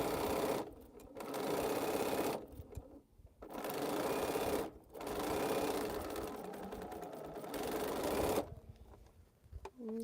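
Sewing machine stitching rows of a cotton quilt, loud close motor runs of a second or two broken by short pauses, with faint handling noise in the gaps.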